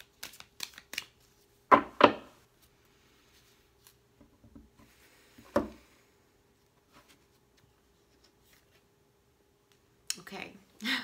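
A deck of cards being shuffled in a few short, crisp riffling bursts, separated by long quiet gaps, with a final flurry near the end.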